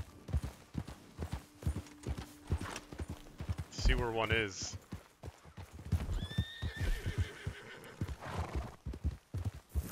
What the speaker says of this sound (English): I hate how this horse won't stop when I pull backwards.